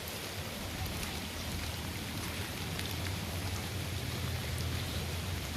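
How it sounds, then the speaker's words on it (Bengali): Heavy rain pours steadily over a village outdoors, a dense continuous hiss with close patter of drops on surfaces, unbroken and loud throughout with no voices. "আসলে গ্রামের মধ্যে প্রচন্ড বৃষ্টি পড়তে আছে। এখন অনেক বৃষ্টি হচ্ছে"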